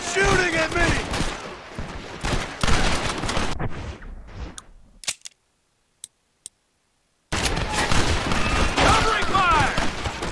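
Rapid gunfire crackles through a Red Dead Redemption battle, with dense volleys of shots under shouting voices, then a near-silent pause with only two isolated cracks, before heavy shooting resumes loud and close.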